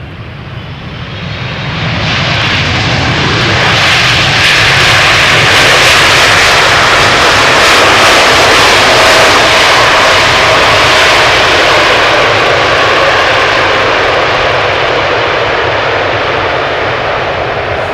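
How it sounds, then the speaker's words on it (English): A 15-year-old China Southern Cargo airplane arriving from Chongqing roars in over Schiphol's Polderbaan on a hot sunny day, the engine noise swelling within two seconds into a loud, sustained close pass. "Choina Southern Cargo, arriving from Chongqing."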